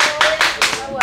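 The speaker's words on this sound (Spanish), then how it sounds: "¡Aplauso!" A few people clap in quick rhythmic bursts, five or so sharp, close claps in about a second, with a voice sounding over them.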